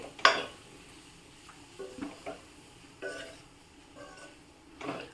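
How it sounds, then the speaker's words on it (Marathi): Capsicum stir-fry with besan being mixed in a pan, giving a few soft scrapes and light clinks of the spatula spread over a few seconds, close but faint. "आता मी छान मिक्स करून घेणार आहे"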